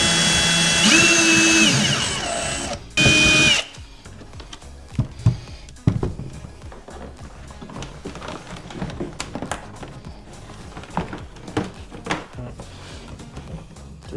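A power drill bores a 3/4-inch hole in the plastic hull of an Old Town Sportsman PDL kayak, with one loud steady whine of about three seconds followed by quieter scattered handling clatter and taps.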